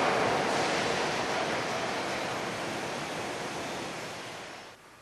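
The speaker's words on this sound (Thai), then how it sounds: "การจำลองลมที่มีความแรงสูง" Strong simulated wind blasting over hair, a loud steady broadband roar that eases slightly before cutting off near the end, with no speech.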